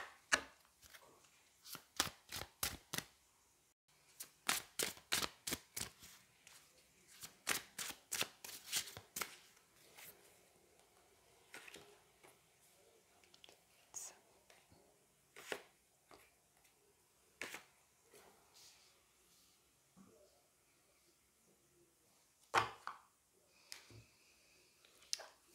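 Tarot cards are shuffled and drawn by hand, with rapid bursts of crisp riffling clicks in quick runs, then sparser single snaps and slides of cards, close and quiet with no talking.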